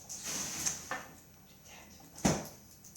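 A kitchen drawer slides and knocks as it is worked open and shut. A few wooden bumps and scrapes lead up to one sharper thud near the end, heard close with no speech.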